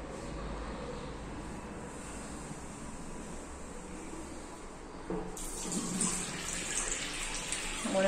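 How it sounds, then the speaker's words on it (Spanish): A bathroom tap in a Montevideo house runs at strong pressure, a steady hiss that swells louder and brighter partway through as the flow increases. "Buena presión de agua."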